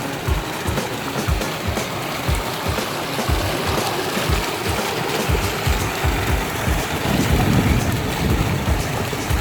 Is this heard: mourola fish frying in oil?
no